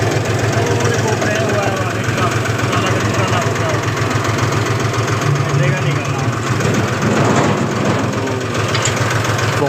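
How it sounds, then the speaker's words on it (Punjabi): A combine harvester engine runs in a paddy field during the rice harvest, producing a loud, constant mechanical roar with a throbbing low rumble that fills the whole stretch. "ਲੋ ਜੀ ਮਸ਼ੀਨ ਲੱਗ ਗਈ ਜੀਰੀ ਵੱਢਣ ਆਉਣਾ"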